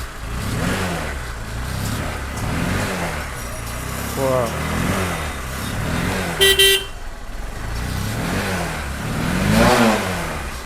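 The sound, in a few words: Honda Unicorn 160 motorcycle engine starting and running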